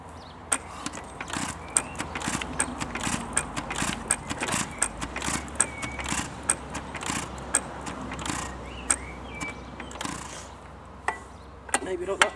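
A Bamford 3hp throttle-governed stationary engine is hand-cranked without firing: repeated sharp clanks and clicks of the crank over a low mechanical rumble, close and moderately loud, with no steady running note.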